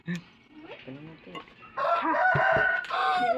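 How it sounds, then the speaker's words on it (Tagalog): A rooster crows loudly and close by, one long drawn-out call lasting a couple of seconds, following some quieter background chatter and clucking. "May manok pa."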